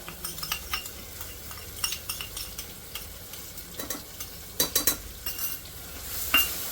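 Spice masala being stirred into chora beans in a pan, with repeated close scraping and clinking stirs over a soft, continuous sizzle; no talking.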